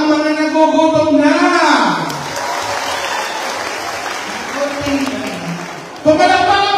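Audience applause at a Filipino noontime variety show, dense steady clapping filling most of the clip between bursts of a host's voice at the start and end.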